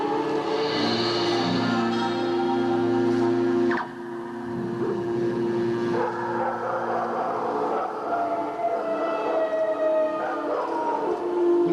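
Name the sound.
dogs barking in a recorded music piece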